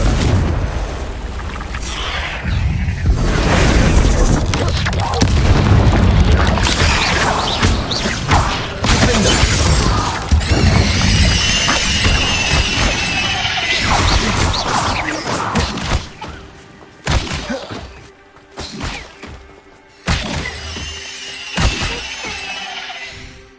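Confringo blasting spell in Hogwarts Legacy bursting and smashing objects, a loud sustained explosion and shatter full of breaking debris and crashes, then quieter scattered impacts and rumbles as it dies down, no talking.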